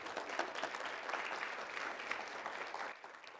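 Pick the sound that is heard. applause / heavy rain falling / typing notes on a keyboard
applause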